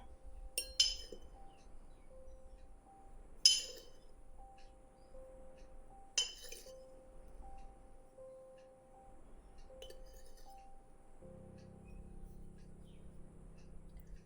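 Rice flour is spooned into a bowl for jackfruit appam, bringing three or four sharp metallic clinks of a utensil against the bowl, spaced a few seconds apart, over a faint steady hum in a quiet kitchen.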